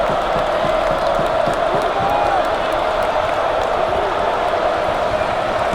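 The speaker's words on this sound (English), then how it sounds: "The crowd continues to chant." An arena crowd in the NCAA Basketball 10 video game, Kansas hosting Eastern Illinois, keeps up a dense, loud, continuous chanting roar with faint bouncing and shouts mixed in.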